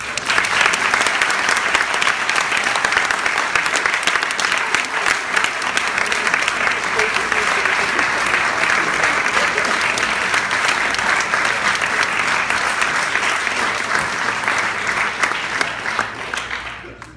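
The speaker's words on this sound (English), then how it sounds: "So let's give a big round of applause." A large crowd applauds steadily for a long stretch after a talk by Ken Levine at Wheaton College, a dense wash of clapping that stays loud throughout and fades slightly at the very end.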